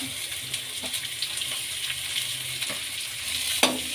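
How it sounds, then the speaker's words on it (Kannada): Green chilies, garlic and onion fry in oil for a spicy potato-ball manchurian, with a steady hiss under scattered spatula taps and scrapes, one sharper knock near the end, close by and without speech. "ಹಸಿಮೆಣಸಿನ್ಕಾಯಿ ಇದನ್ನ ಫ್ರೈ ಮಾಡ್ಕೊಳ್ಳೋಣ ಈಗ ಈರುಳ್ಳಿ ಹಾಕ್ಕೊಳ್ಳೋಣ"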